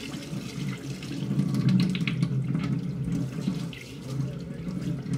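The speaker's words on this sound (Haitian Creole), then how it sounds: "Quand y a ouvert de l'eau" Water runs from a tap into a kitchen sink where a salmon is being washed, a steady close rushing flow that swells slightly in the middle.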